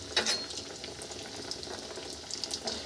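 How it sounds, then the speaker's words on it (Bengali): Fish fry pieces frying in hot oil, a soft continuous sizzle and bubbling with small crackling bursts, fairly quiet and close, no talking. "চলুন এবার ফিশ ফ্রাইটাকে আমরা ভেজে নিই"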